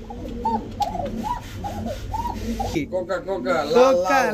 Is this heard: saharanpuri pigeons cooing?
yes